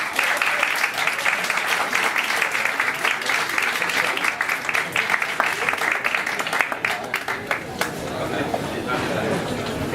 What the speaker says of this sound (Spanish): Damos un fuerte aplauso a Víctor Jack, a Mr. Jagger y a Agatha Rey.